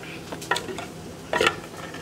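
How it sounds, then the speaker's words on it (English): Rice frying in a pan for Mexican rice gives a low, steady sizzle, broken by two brighter clatters of stirring or utensil scraping against the pan, heard close with no talking. "The rice is almost done frying."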